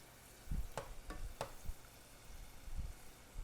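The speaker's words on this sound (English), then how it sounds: "Once my garlic is nice and golden brown, I'll remove it, and then it'll be time to fry the chilies" Garlic and chilies frying in oil for a spicy chayote taco salsa give a faint, quiet sizzle, broken by a few soft clicks and stirring knocks that come at irregular intervals.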